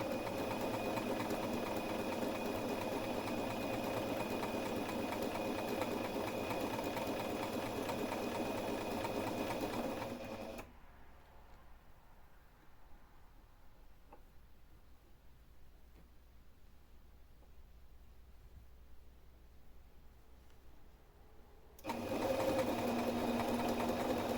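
A sewing machine stitches a baby bib with a steady, close mechanical hum. It stops for about eleven seconds, leaving quiet, then starts again near the end.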